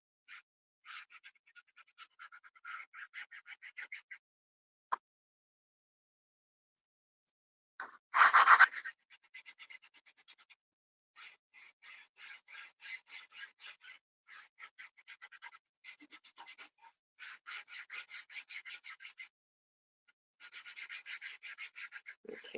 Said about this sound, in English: So I'm just going to rub a little bit of wax on the top here.